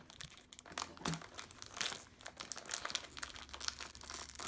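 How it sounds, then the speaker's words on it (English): A plastic packet of a Popin Cookin candy kit being cut open, with soft close crinkling and rustling of the wrapper in irregular bursts, faint and without voices. "So I'm gonna just cut this open, Cholae."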